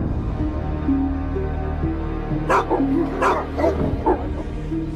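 A dog barks several times in quick succession, loud and close, with yips and a whimpering tone over a steady low background hum.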